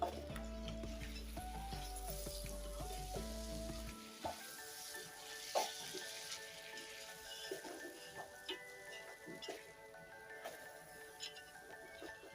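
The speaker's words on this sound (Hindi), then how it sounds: "इसमें सारा अपना जो गोश्त था ना, वो डाल देंगे गरम गरम" Mutton hits a hot pot and sizzles with a steady, soft frying hiss, stirred now and then with faint scrapes, after a brief tonal hum at the start.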